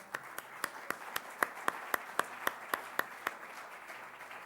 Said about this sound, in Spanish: Entonces, bueno, un aplauso.